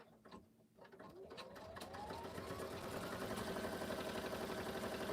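A sewing machine stitches through a quilt with a rough, labored running sound, starting after a brief pause and building into a steady, loud, continuous mechanical whir with rhythmic clatter.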